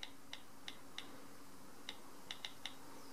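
Sparse, faint keystrokes tap on a keyboard while typing a web address, scattered one by one in a quiet room.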